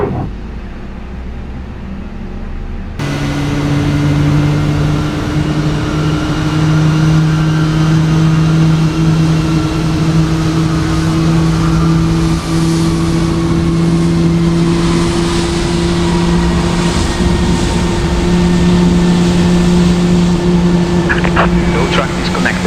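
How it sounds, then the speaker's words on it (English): Airbus A320neo engines spooling up and running after start in Microsoft Flight Simulator, a loud steady turbine drone with rising tones, beginning abruptly after three seconds of quieter sound and holding throughout. "We have a good engine start."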